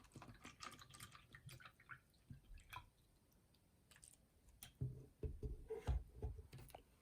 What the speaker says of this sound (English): Let's pour some water in.